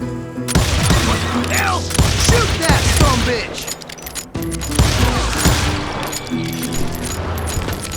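Gunfire in the Call of Juarez Gunslinger video game, a dense fusillade of shots and booms over a steady music bed, the bursts rising and falling across the whole stretch with a brief drop near the middle.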